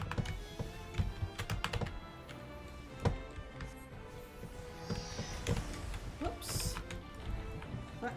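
Brisk, irregular clacking of computer keyboard keys in bursts, close and fairly clear, with faint voices and background sound underneath.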